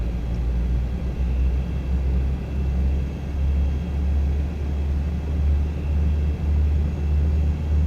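Aerobask E1000 aircraft engine running in the X-Plane flight simulator with full prop and the condition lever at max, a steady, loud low rumble that holds without a break and has no voices over it.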